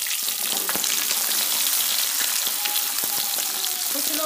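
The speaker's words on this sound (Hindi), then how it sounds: "तेल गर्म हो चुका और मैं प्याज डाल रही हूँ।" Chopped onions hit hot oil in a pan for a beef liver fry, giving a dense, continuous close-up sizzle with scattered crackles and pops, alone without any talking.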